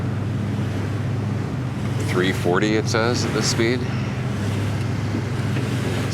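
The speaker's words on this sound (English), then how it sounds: "So these waves are fairly largish," A boat cruising at just under 8 knots through fairly large waves on a coastal passage, with a steady low engine drone and constant rushing water and wind, while someone speaks briefly over it.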